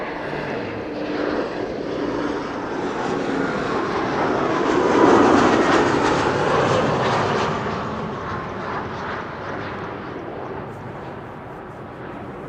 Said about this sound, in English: Helicopter of the police.